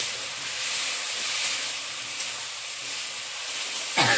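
Water poured into hot frying spices for a fish curry with potato and eggplant, a broad steamy hiss that holds steady and close, with a sudden knock at the end.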